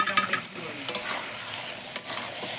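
Marinated chicken fries with spice paste in a pan, giving a soft sizzle broken by a few quick stirring scrapes close by, with no talk.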